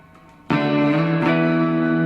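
An electric guitar on its middle pickup rings out through effects pedals into a Fender Tone Master Twin Reverb amp, one loud sustained chord struck after near silence and held with rich reverb.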